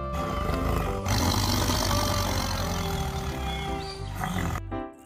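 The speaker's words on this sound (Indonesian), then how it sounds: "Wow, ada binatangnya. Ada harimau teman-teman." A toy tiger gives a loud, close roar that holds for about four seconds and then breaks off, followed by a short second burst.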